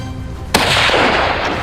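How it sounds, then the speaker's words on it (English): A single sharp gunshot during a wild boar hunt on American farmland, loud and close, followed by a short echoing decay. "After a series of consecutive shots, some big fat wild boars were killed."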